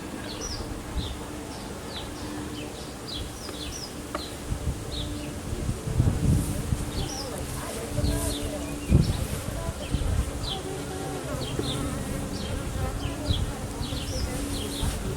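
Honeybees buzz continuously around an open hive during an inspection, a dense close drone with individual bees zipping past, plus faint handling rustles and a few distant birds.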